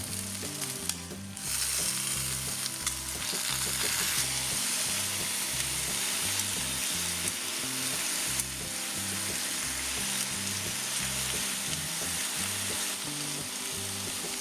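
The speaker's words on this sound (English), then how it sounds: "Add in the pork and stir fry till it's slightly brown." Pork stir-frying with ginger in sesame oil for black vinegar pig trotters: a loud, continuous sizzle, close up, with rhythmic scraping and stirring strokes repeating through the whole stretch.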